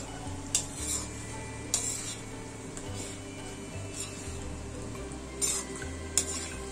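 Soybean and potato curry with curd stirred in a pan over a medium flame, a steady low sizzle broken by occasional sharp utensil scrapes and taps, close by and without voices.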